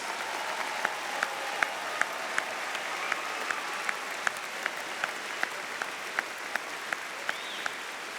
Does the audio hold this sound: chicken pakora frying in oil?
no